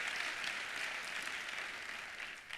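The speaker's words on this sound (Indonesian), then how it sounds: "Tepuk tangannya yang meriah buat Tuhan kita" A church congregation gives a short burst of warm applause, a faint, even patter of many hands heard from a distance.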